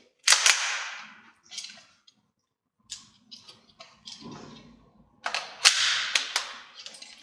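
A Northeast Airsoft Sten MK5 gas blowback airsoft gun fires several sharp, close cracks in short groups with pauses between, each shot followed by a mechanical clack of the cycling bolt.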